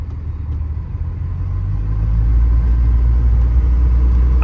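A first-generation truck engine pulls under load while driving, its low rumble rising and holding steady as the revs climb, loud and close throughout with no talking.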